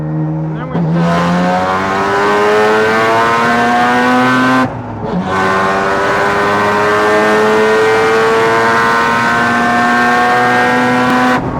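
A high-revving Mazda RX-7 engine screams loudly down a race track, pitch climbing through gears with a brief drop at each shift, sustained and close.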